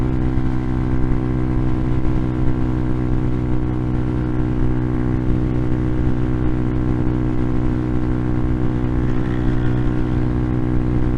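A fully modded 2022 Hawk 250 engine runs at full throttle on a downhill, giving a loud, continuous, even drone with strong harmonics and no talk.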